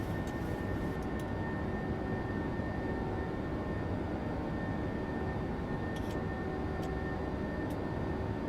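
A PMDG Boeing 737-800 in the MSFS 2024 flight simulator on its takeoff roll, giving a steady, loud broadband engine roar that holds constant throughout with no talk over it.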